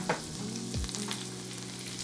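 Sage leaves fry in a pan with a soft, steady sizzle and crackle, plus a brief stir or scrape, all fairly quiet and close.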